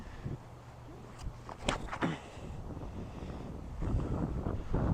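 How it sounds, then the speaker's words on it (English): Strong outdoor wind on a disc golf course buffets the microphone in a continuous low rumble, swelling in gusts toward the end, with a few faint knocks in the middle and no talking. "the wind might win today"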